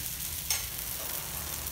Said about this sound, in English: Add some oil and cook on the other side also.